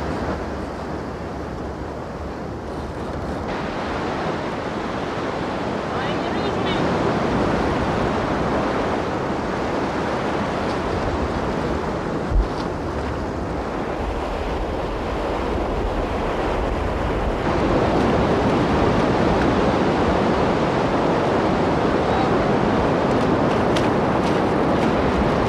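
Ocean surf breaks steadily on a beach during surf casting for sea bass, a dense continuous roar of waves mixed with wind buffeting the microphone.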